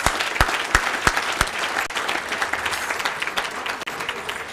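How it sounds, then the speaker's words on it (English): An audience bursts into applause at an awards ceremony, a dense steady patter of many hands clapping close by for a wine sponsor's founder, with a few louder individual claps standing out. "Yeah, give a round of applause."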